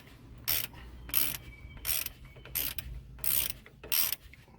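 Wheel hub bolts on a Citroen C4 are tightened with a ratchet during a front brake disc and pad change. Six sharp, evenly spaced bursts of clicking sound up close against a quiet background.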